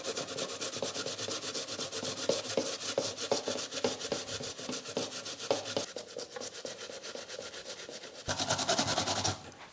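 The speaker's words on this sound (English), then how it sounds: "The most difficult thing in cooking deruni is potato pancakes, is to grate potatoes." Potatoes rubbed against the fine side of a kitchen grater for potato pancakes, a steady close rasping scrape with rapid repeated strokes, continuing alone throughout with a brief louder burst near the end.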